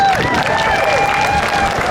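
Dense crowd noise of clapping mixed with cheering and shouting voices at an outdoor protest rally in Forest Place, Perth, loud and continuous throughout.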